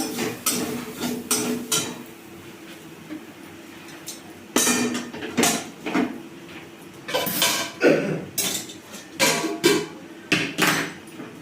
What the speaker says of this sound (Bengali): কড়াই জল বসিয়ে দিচ্ছি